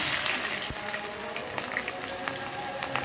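Chopped onions fry in a pan with dried chillies for a Sylheti fish dish, a steady close hiss and crackle of hot oil with no pauses.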